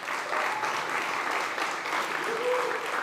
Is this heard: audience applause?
yes